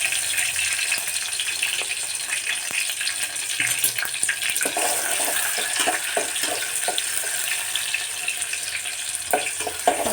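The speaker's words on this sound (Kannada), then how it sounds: "ಈಗ ನಾನು ಎಣ್ಣೆಗೆ ಈರುಳ್ಳಿ ಹಾಕ್ತಾ ಇದ್ದೀನಿ" Chopped onion dropped into hot cooking oil in a home kitchen pan while preparing ridge gourd palya, giving a steady, fairly loud sizzle and crackle with scattered pops and stirring clicks throughout, no talking.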